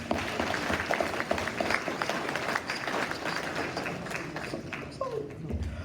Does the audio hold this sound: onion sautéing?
no